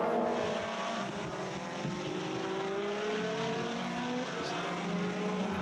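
A Lotus Evora GT4 race car engine roars at Hockenheim in the Lotus Cup Europe, a steady, rising engine drone that holds for several seconds without any speech.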